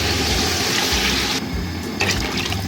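Water pours steadily into a half-kilo pot of rice and chicken for matar pulao, a continuous close splashing and gushing stream that shifts in tone as the pot fills.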